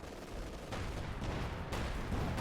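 Artillery shells from a zeroing artillery strike in Company of Heroes 2 land in a steady, dense barrage of booming and crackling blasts that swells louder partway through, with no talk over it.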